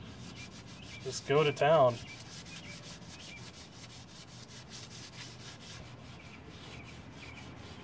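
An aluminum wheel is scrubbed with the abrasive side of a sponge and lemon juice, a steady rhythmic rubbing rasp heard close up, with a short spoken phrase near the start.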